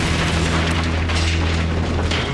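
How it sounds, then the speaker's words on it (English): A cannon explodes in the Minecraft video game, a heavy, continuous rumbling boom with a low hum running beneath it, loud and sustained with no talk. "If this doesn't blow up this cannon, I don't know what will."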